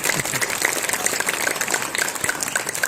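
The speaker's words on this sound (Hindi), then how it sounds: "जोरदार तालियां बजाकर सम्मानित कर दीजिए" Audience applause for poet Meera Dixit at a Hindi poetry recital, a steady wash of many hands clapping with scattered distinct claps, moderately loud and continuous with no speech over it.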